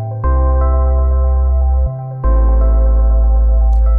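A synth bass line in Ableton Live stepping upward: a few long, loud, sustained low notes, each held for about a second or two with clean changes between them, alone and steady.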